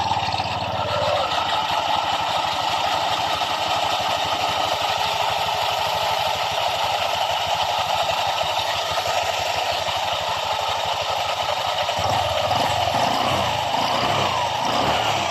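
A Honda Click 125 scooter engine starts and settles into a steady idle, a close, continuous mechanical drone with light rattling and clatter throughout.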